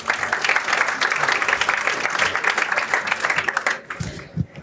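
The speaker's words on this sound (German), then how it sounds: "Jonas, dein Applaus." Studio audience at a congress round-up show breaks into sustained applause welcoming a guest, dense clapping throughout that thins toward the end.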